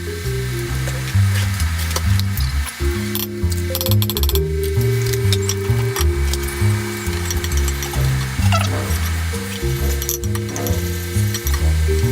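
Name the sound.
finely chopped onions sizzling in a pan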